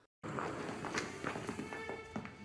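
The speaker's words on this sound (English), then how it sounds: "The sound of the footsteps on that corridor." Footsteps echo along a corridor in a TV drama, a steady run of evenly spaced hard taps at close range with no talking over them.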